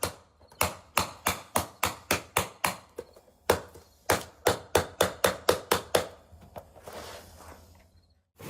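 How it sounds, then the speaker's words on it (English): Sharp, evenly spaced hammer blows in professional skateboard making, about twenty strikes in two quick runs with a short pause between, then a softer scraping handling noise. "hammering is still the gold standard among professional skateboard makers"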